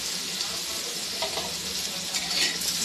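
Oil sizzles steadily in a pan as chicken curry is stirred, a constant bright frying hiss with a few soft scraping stirs rising briefly over it.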